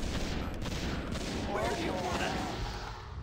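Warcraft 3 units fire on a defensive tower in a dense, continuous barrage of rapid shots and impacts, loud and close, with brief cracks standing out from the churn.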